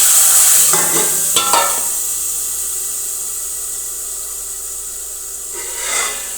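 Potatoes with asafoetida and salt fry in hot oil with mustard seeds, a loud hiss and sizzle with a few scraping stirs at the start, easing to a softer steady fry before another stir.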